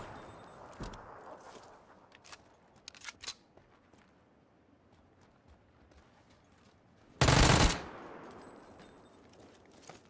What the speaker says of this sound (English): I'm worried about the guy that's still firing